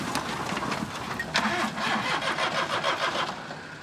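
A JDM mini truck engine sputters and cranks during a clutch pop-start attempt, a rough, pulsing mechanical churn with a sharp burst partway through, close and fairly loud, with rhythmic chugging continuing to the end.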